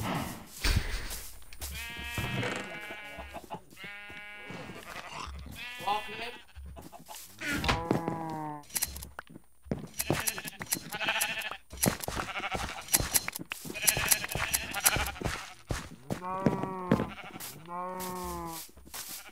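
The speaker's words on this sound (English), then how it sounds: "sheep." Sheep bleat over and over in a Minecraft-style video game, loud wavering cries coming in quick succession and sometimes overlapping, with a voice speaking briefly among them.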